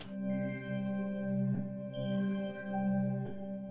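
Power chord of root and fifth played on a keyboard, a quiet sustained tone restruck softly a few times, alone with no voices.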